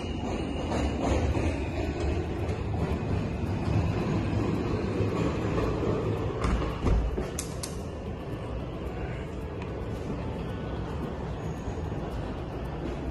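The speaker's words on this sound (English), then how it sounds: "You can actually take a look at the train passing by." Train rumbling past outside an apartment window on Fulton Street, a steady heavy roar with rattling clacks and a few brief metallic squeals, moderately loud and sustained throughout, with no voices.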